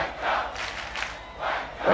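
A large stadium crowd chants and cheers in rhythmic waves, roaring repeatedly at a distance with no speech over it.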